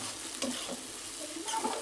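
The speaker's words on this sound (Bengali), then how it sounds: "এটা আমি কাঁচামরিচ দিয়ে দিলাম ছেঁচে" Crushed green chilies frying in fish-frying oil for a lobster prawn bhuna, making a soft continuous sizzle with a few stirring scrapes, close and fairly quiet.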